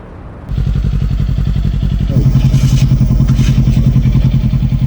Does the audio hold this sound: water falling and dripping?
no